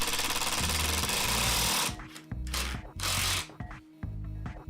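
A drill bores pocket holes in wood, whirring in short, repeated bursts with a rhythmic mechanical chatter and brief pauses between holes, close and fairly loud.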